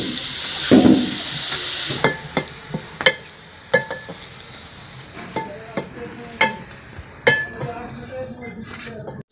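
A loud sizzle as cauliflower hits hot oil with tempered spices, followed by repeated clinks and scrapes of a spoon stirring in a pan while the frying hisses underneath.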